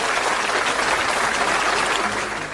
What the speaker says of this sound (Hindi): उसके लिए तालियां हो जाए।